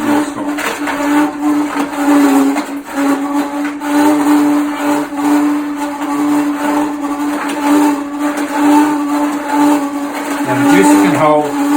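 A Torus T5500 juicer grinds through beetroot and carrot with a loud, constant whirring motor hum and a tonal whine, steady and close for the whole stretch.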